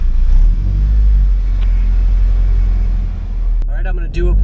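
Honda Civic EP3 engine idling steadily after an intake manifold swap, a constant low rumble that stays loud throughout, with a brief voice near the end.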